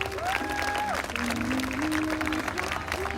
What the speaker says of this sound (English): a big round of applause for all of our Junior Miss contestants